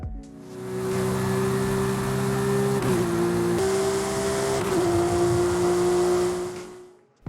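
A Porsche 911 GT3 RS with an upgraded exhaust in Forza Horizon 5 holds a steady, meaty engine drone, dipping briefly twice as if shifting, then fading out near the end, with no talk.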